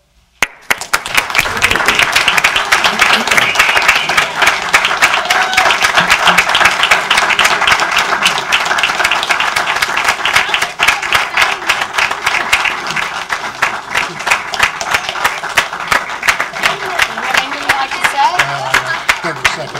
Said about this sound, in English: if you could kind of tell by the roar of the applause